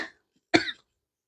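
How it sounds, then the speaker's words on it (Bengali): A single short, sharp cough, close and clear, preceded by a faint breathy sound and followed by silence. "আমার শুধু কাশি লাগছে।"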